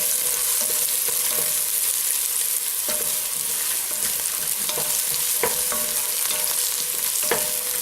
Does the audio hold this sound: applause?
no